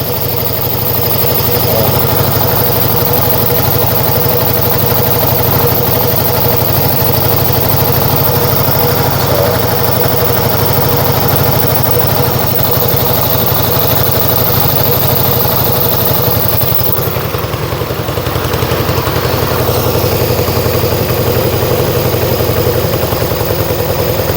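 A Yamaha XS1B motorcycle engine idles steadily after its carburetor is tuned leaner, a loud, close, continuous rumble with an even throb that stays constant throughout.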